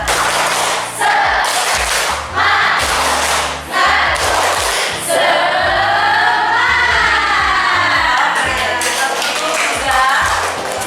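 A university class performs a rhythmic group clapping cheer, tepuk semangat, with bursts of patterned claps and chanting voices alternating in a loud, close, energetic sequence.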